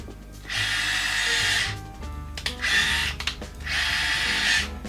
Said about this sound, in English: First test, let's try to drill a hole.